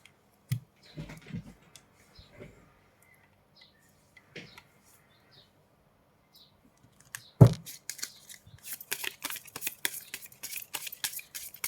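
Oracle cards being handled and shuffled, with a few soft isolated card sounds at first, then a sharp riffle followed by a dense run of rapid flicking and slapping, close and fairly quiet.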